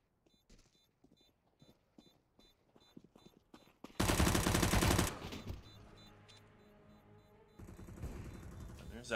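UMP submachine gun bursts in a CS:GO match on Dust2, scattered faint shots and footsteps, then a loud rapid burst of fire, with a further burst near the end, while a commentator talks.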